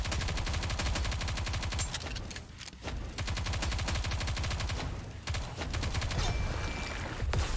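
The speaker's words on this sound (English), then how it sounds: "So, I just have to shoot?" Sustained rapid gunfire from Nikke: Goddess of Victory, a dense continuous barrage of automatic shots running nearly throughout, with brief lulls, loud and close, no talking.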